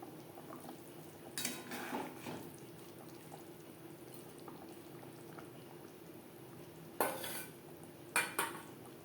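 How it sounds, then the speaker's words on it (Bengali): Fried koi fish simmering in a bubbling gravy, a low steady boil running throughout with a few brief clinks of a spoon or pot, moderately quiet and close, no voices. "গ্রেভির সাথে মাছ আরও চার পাঁচ মিনিট রান্না করবো"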